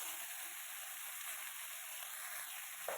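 Chopped red amaranth greens fry in a little oil, giving a steady, even sizzle and hiss throughout with no talking and only a faint bump near the end.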